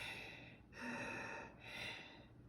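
A reader's voice imitates a monster's scary panting with two long, breathy, hoarse gasps, close to the listener and alone.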